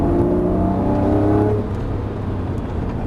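Lamborghini Murciélago on a racetrack at Las Vegas Motor Speedway accelerating out of a turn, a loud close engine drone with rising harmonic whine that drops in pitch and settles into a rougher roar partway through.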